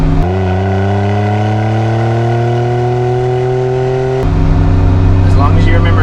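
A small-displacement Autozam AZ-1 gullwing kei sports car revs up steadily from close by, its buzzy engine note climbing for several seconds before dropping sharply as revs fall and then settling to a lower drone.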